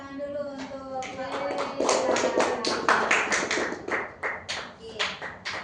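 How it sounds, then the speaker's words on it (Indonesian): A classroom of students claps their hands during a teaching session. The claps are distinct and a little uneven in rhythm, and a voice speaks at the start. "Oke, tepuk tangan dulu untuk Pak"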